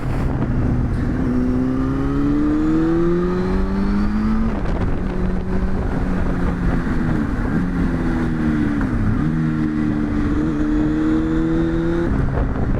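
A 1999 Honda Hornet 600 motorcycle engine pulls steadily while riding, its loud, close tone climbing in pitch through several gear changes with brief dips between shifts, and no voices.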